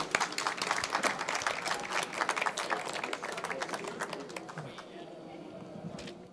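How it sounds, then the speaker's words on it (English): Audience clapping for a speaker after a competitive robotics talk, brisk and crisp at first, then thinning out and fading to near silence. "Round of applause,"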